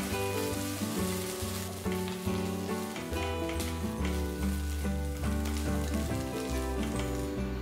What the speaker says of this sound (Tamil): 1/2 டீஸ்பூன் இஞ்சி பூண்டு பேஸ்ட் போட்டு 2 நிமிஷம் நல்லா வதக்கிட்டு